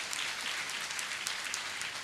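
Audience clapping loudly and steadily at a motivational session, a dense, continuous wash of many hands held at an even level for the full two seconds with no voices over it.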